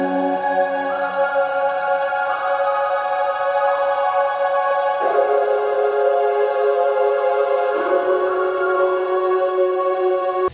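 Two synths, one panned left and one right, hold sustained chords that follow the key changes, shifting smoothly every few seconds with a steady, haunting, even tone and nothing else playing.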